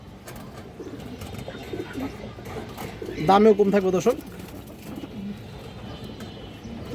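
Madira pigeons cooing in a loft among high-flyer breeds, a short burst of warbling coos in the middle under someone talking steadily, with faint background noise.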